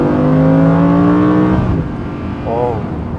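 An Audi R8 engine droning steadily while driving, a low sustained hum with a rising tonal whine that fades out, heard from inside the car, followed by a brief harmonic rise.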